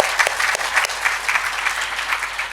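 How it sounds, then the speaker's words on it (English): Audience applause at the inauguration of a literary festival, a steady, fairly loud wash of many hands clapping close by, continuous for its whole length with no talk over it. "For that, I want to really clap her."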